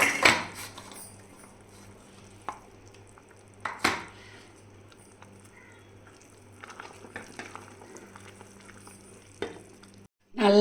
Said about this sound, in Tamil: புளி இந்த மாதிரி கொதிச்சுட்டு இருக்கும்போது நம்ம இந்த பவுடரை போட்டு நல்லா கட்டி இல்லாமல் கிண்டி விட்டுறணும்